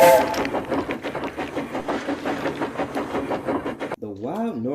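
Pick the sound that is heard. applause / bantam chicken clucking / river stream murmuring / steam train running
steam train running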